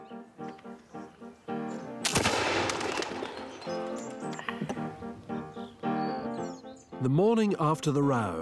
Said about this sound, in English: the Countess and Miss Hopkins work out their frustrations by shooting pistols